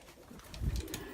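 Pigeons coo softly on a rooftop, one low throaty call swelling briefly amid faint background noise.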